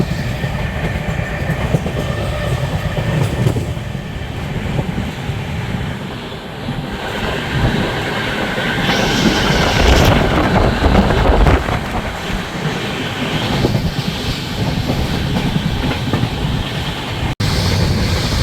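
The 12259 Duranto Express, running between Pt. Deen Dayal Upadhyaya and Delhi, sounds from on board as it passes another train: a steady, loud rumble with clickety-clack and rushing wind noise throughout.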